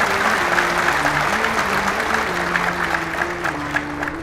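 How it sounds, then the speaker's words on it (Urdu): Audience clapping during a religious lecture, a dense wash of applause with a held tonal sound underneath, steady and fairly loud throughout. "یہ تو دکھ والی بات پہ تم نے تالیاں بجائی ہیں۔"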